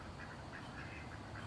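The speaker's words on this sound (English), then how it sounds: "The duck's doing great" A duck quacking faintly at a garden pond, a few soft nasal calls in a short run over a low steady outdoor background.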